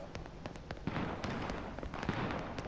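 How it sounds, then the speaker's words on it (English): Gunfire in the battle royale game H1Z1, a scattered run of sharp cracking shots at a moderate distance, irregular and repeated over a constant noisy game background. "I heard gunshots."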